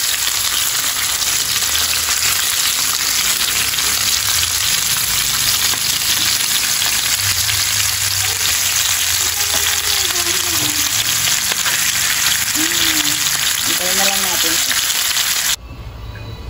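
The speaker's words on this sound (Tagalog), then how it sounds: "igisa natin muna yung ating batatas" Potatoes sautéing in a pan for pork caldereta, a loud, steady, hissing sizzle close up throughout, with faint voices briefly rising under it toward the end.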